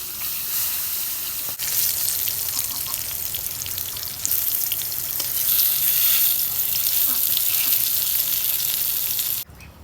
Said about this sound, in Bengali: পটল ভাজা হয়েছে, এখন আমি নামিয়ে নেব।